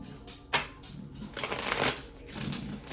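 Tarot cards shuffled by hand in quick riffling bursts, close and fairly quiet, with a louder flurry in the middle and no speech.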